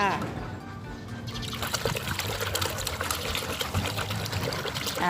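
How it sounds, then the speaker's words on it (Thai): Running water pours and trickles steadily as a Thai spotted caladium plant's roots are rinsed clean, the splashing continuous and fairly close, with a voice talking over it. "ล้างให้สะอาดเลยนะคะหัวนี้ก็ล้าง"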